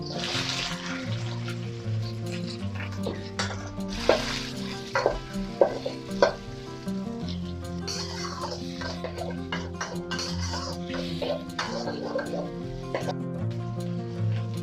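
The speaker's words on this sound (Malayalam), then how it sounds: "അടുത്തായി നമുക്ക് സവാള കട്ട് ചെയ്ത് വെച്ചിരുന്നത് ഇട്ട് കൊടുക്കാം" Chopped onions sizzling and being stirred in a pan for restaurant-style chicken Manchurian, with steady frying hiss, scraping utensil strokes and occasional clinks, and background music playing throughout.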